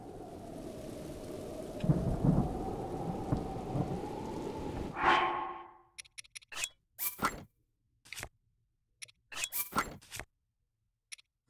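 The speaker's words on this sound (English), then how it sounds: "I don't know if I'm gonna find it acceptable if they keep rain the way it is here in this game" Thunderstorm rain in Zelda: Breath of the Wild, a steady dense hiss of rainfall with a low rumble for the first half, then cutting away to scattered short bursts separated by silence.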